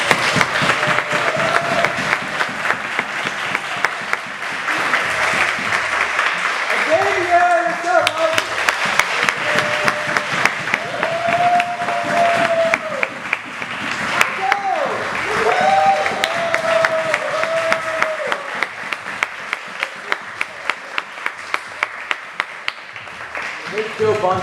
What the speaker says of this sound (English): So we'll just get some round of applause going